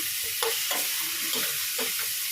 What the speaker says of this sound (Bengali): দেখো এখানে চানার মশলাটা কষাচ্ছি কিছু দিইনি আদা পেঁয়াজ রসুন অল্প একটু জিরে গুঁড়ো দিয়েছি